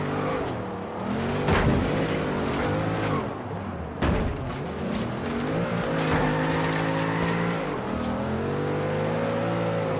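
A car in the racing video game Forza Horizon 3 roars with a revving engine that rises and falls through gear changes, with tire noise and a couple of sharp jolts as it skids off the track.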